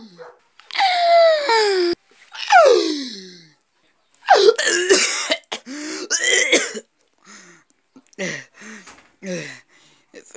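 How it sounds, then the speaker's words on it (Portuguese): A burst of harsh, exaggerated coughing and throat sounds, loud and close, coming in irregular fits with pauses of silence between them. "Muita tosse."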